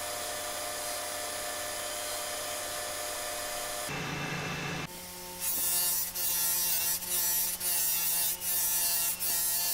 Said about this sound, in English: Here we're just going to give the base a little buff.